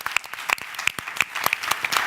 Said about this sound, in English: so we give you a round of applause.